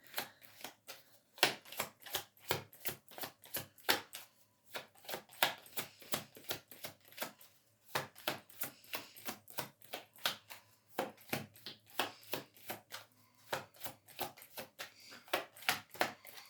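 Rapid crisp riffling and snapping of tarot cards being shuffled up close, in repeated bursts with short pauses, quiet overall.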